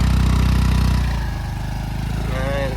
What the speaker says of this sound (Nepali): फाइनल्ली बिमलले स्कुटर पनि निकाल्यो।